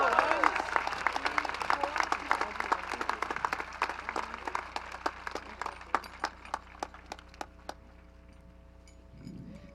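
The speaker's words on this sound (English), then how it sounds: "Please stand and join me in a well-deserved round of applause for our valedictorian, Ryan Wentz" A graduation crowd applauds the valedictorian with sustained clapping that slowly thins and fades, and an amplified voice speaks near the end.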